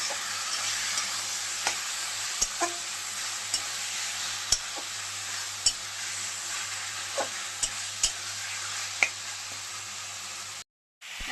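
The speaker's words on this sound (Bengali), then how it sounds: "এখন আমি মাংসটাকে মেখে রেখেছিলাম, সেই মাংসটা দিয়ে দিচ্ছি। ভালো করে কষিয়ে নেব।" Marinated chicken with softened tomato stir-frying in a hot pan, a steady close sizzle with scattered crackles and pops throughout and a brief break near the end.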